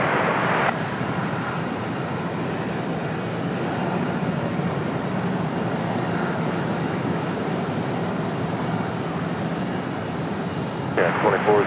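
United airliner taking off from runway 23 right at Raleigh-Durham airport, a steady broadband jet roar that stays loud and even throughout, with a faint voice briefly audible near the end.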